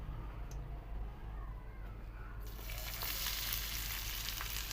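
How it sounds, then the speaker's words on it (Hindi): Sliced onion hits hot ghee in a pan partway through, and a quiet background suddenly turns into a bright, steady sizzle that keeps going close by. "अंदर हम डाल देंगे सबसे पहले प्याज"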